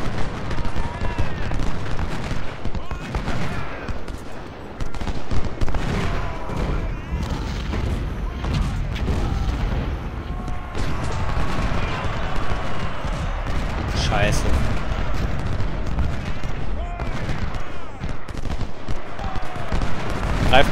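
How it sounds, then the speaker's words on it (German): Rapid cannon blasts and volleys of musket fire crackle almost nonstop through a battle in the video game Ultimate General: Civil War, loud and dense, with someone talking excitedly over the din. "Wir brauchen Kanonenfeuer da."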